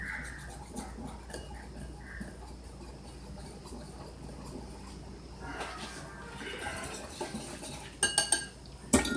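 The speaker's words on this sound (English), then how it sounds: "You see the check, you just want to keep whisking it." Glaze for fried sweet potato pies is whisked in a bowl, with quiet scraping and ticking of the whisk that ends in a few louder clinks of metal against the bowl. No voices can be heard.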